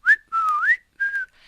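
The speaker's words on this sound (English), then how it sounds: "still whistling" The Shaggy Man whistles a tune in an audio drama, three clear melodic phrases with sliding pitch rising and falling, close and alone with no talk.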